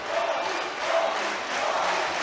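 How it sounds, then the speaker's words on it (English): At a sabre fencing world championship team final in Budapest, an indoor arena crowd roars and shouts in a steady, moderately loud wash of voices cheering a fencer. "Crowd cheering him on, shouting Tom."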